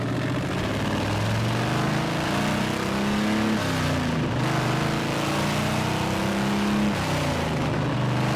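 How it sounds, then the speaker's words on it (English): A Boss 9 V8 in a custom pro-touring Mercury Cougar rumbles through unmuffled exhaust pipes, a loud, continuous, close engine note with slight rises in revs. "The sound of the Boss 9 through unmuffled pipes is just magic and idle."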